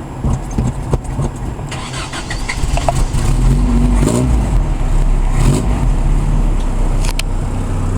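A few sharp clicks, then a carbureted 1983 two-wheel-drive Toyota pickup engine cranks and catches, settling into a loud, steady idle with a brief rev near the end.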